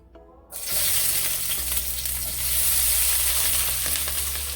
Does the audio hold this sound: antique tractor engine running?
no